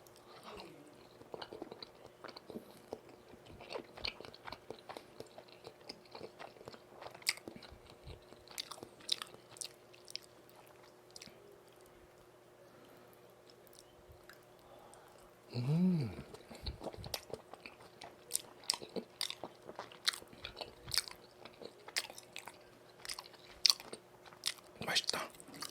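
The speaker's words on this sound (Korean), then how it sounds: "이게 처음 먹어보는 우리 할매 떡볶이에요." Korean tteokbokki with long rice cakes, fish cake and dumplings is eaten up close, with soft, irregular chewing and biting sounds that grow louder near the end, while a person talks quietly at times.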